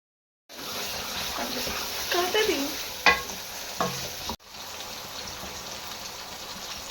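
Chopped tomatoes go into fried onion masala in a hot pan for chicken biryani, with a steady sizzle, a few stirring scrapes and a splash as they hit the oil.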